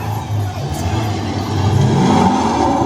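A Jeep engine on the Universal Studios Florida E.T. Adventure ride gives a sustained mid-pitched revving drone that climbs in pitch and grows louder toward the end.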